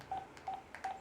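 Touch-tone DTMF digits are keyed on a breezeLine VoIP phone line, three short, evenly spaced beeps over a faint hiss with soft handling clicks between them.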